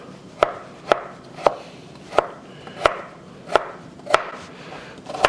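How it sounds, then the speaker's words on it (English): A knife chops through washed purple carrots on a cutting board in sharp, evenly spaced strokes, about ten crisp thuds at a steady rhythm, close and clear with no talking. "I'm just going to chop these carrots up"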